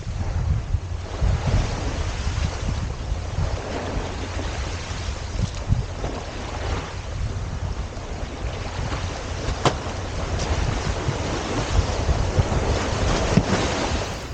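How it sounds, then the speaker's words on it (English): On a sea wall at Stoneness Point in the Thames Estuary at a high spring tide, a passing ship's wake surges and washes over the wall in a steady, loud rush of surf mixed with wind buffeting the microphone. "Then the wake of a passing ship catches me by surprise."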